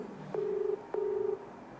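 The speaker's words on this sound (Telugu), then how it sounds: "రింగ్ అవుతుంది." A telephone ringback tone sounds during a phone call: two even, moderately quiet tonal pulses of about half a second each, separated by a short gap, over a low hiss.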